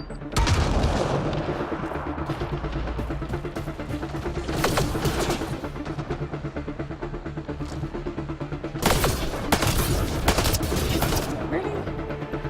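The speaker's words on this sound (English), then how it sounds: "Grenade at me!" Grenade blasts and sustained gunfire in the sci-fi shooter Mass Effect: Andromeda, a dense continuous barrage with heavier booms around the middle and near the end, a voice talking over the combat.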